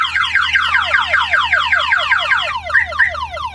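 A tow truck's car alarm wails in rapid repeating electronic sweeps, loud and close, cycling steadily without pause.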